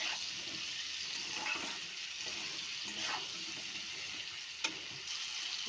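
Potatoes sautéing in a pan for fish curry give a steady, close sizzle with faint clinks and stirring scrapes throughout, with no talk.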